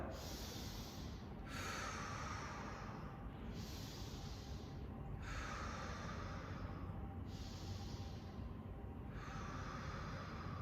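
Deep, loud breathing during yoga breath work, close to the ear. Long hissing inhales and exhales alternate in a slow, steady rhythm, about six breaths with no talking.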